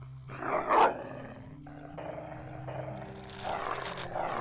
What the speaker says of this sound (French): Ils ne sont pas adorables, mes 2 petits chiens d'amour?